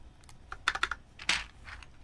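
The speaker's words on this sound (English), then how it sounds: "I guess I could punch in all the keycaps here now." Keycaps being pressed onto a mechanical keyboard, a short run of light plastic clicks and snaps, close and fairly quiet, with no talking.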